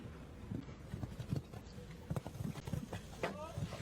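Hooves of a show jumping horse at a Nations Cup competition in Aix-la-Chapelle, rhythmic clip-clop thuds close by under continuous commentary and crowd noise.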